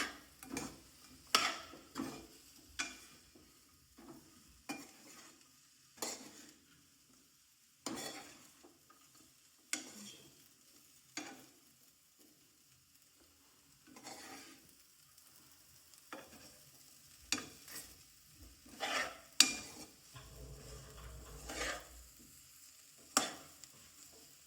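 Bajra rotla dough mixed in a pan in a village-style kitchen, heard as repeated faint scraping and knocking stir strokes at an uneven pace, with a brief low sizzle toward the end.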